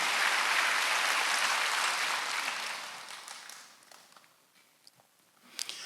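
A church congregation at a Wednesday worship service bursts into clapping that fills the room briefly, then fades away within a few seconds, leaving a quieter hall with scattered small sounds.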